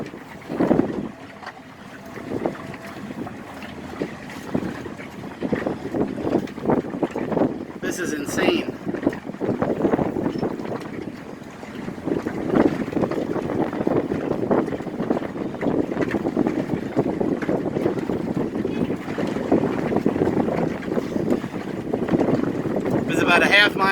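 A Lyman boat idles on a lake while nudging a swimming deer back toward shore. The low, continuous engine murmur sits under heavy wind buffeting on the microphone, and someone speaks briefly.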